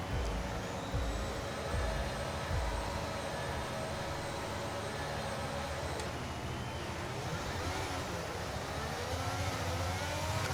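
An F1 race car engine in F1 23 at Jeddah holds a steady, fairly quiet high-revving drone with small pitch shifts, sounding continuous and somewhat distant, with no voices over it.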